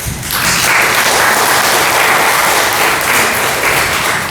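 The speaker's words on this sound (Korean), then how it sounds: "잠깐 두 분 일어서시면 박수로 축하해 주시기 바랍니다." A church congregation at a Sunday harvest thanksgiving service applauds to congratulate a couple soon to marry, steady dense clapping filling the room at even loudness.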